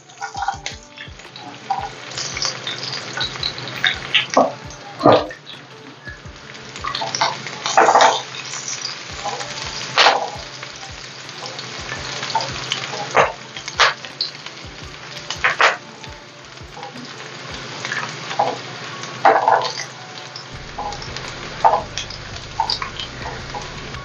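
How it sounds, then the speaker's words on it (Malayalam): Chopped garlic fries in a little coconut oil, a soft continuous sizzle with occasional louder pops and spatters, close and alone, for a rice-flake snack mixture. "വെളുത്തുള്ളി ഇവിടെ മൂത്ത് തുടങ്ങിയിട്ടുണ്ട്."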